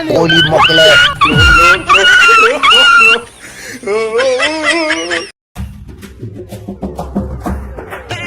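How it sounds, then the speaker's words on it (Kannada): A dog yips and whimpers in short, high bursts close by, mixed with people talking and noisy background activity. "ಅದು ನಾಯಿ ಪುಣ್ಯಾತ್ಮ ಆಡಲ್ಲದು"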